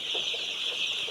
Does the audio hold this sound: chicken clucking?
yes